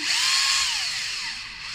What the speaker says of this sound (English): So just screw. Again with the screwdriver.